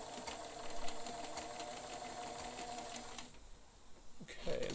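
A Bernina 530 Record sewing machine runs a blind stitch, a steady rapid mechanical whirr with rhythmic needle clatter at moderate level that stops near the end, followed by a brief clunk.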